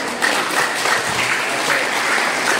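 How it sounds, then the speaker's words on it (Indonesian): Warm, continuous applause from guests at a Bona Taon celebration in Muara Enim: brisk, even clapping from many hands, fairly close and loud throughout. "Ya, tepuk tangan."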